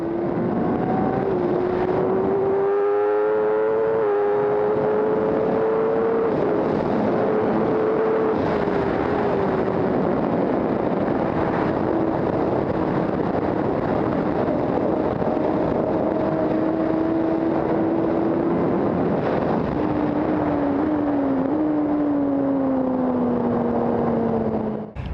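A BMW HP4 Race superbike, 215 hp and 146 kg, laps a racetrack. Its engine wails continuously, rising through gears and dropping on downshifts for about 25 seconds, loud and close.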